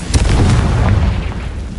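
Confringo blasting spell from the Hogwarts Legacy video game bursts in a loud, booming explosion, its rumbling low roar and crackling spread lasting the whole short stretch.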